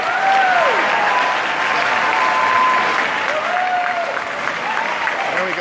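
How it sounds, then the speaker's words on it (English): A town hall crowd claps loudly and continuously for Lowenthal, close, dense applause with voices calling out over it now and then. "They're clapping because of Lowenthal."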